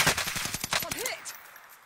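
Call of Duty gunfire: a quick automatic burst of sharp, close shots rattles for about a second, then tapers off into fainter game sounds.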